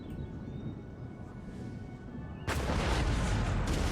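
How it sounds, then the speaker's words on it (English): Low rumbling battle din in the video game Empire: Total War, then a sudden loud burst of booming cannon fire with crackling blasts layered together, continuing at full volume. "Good to hear my cannons firing."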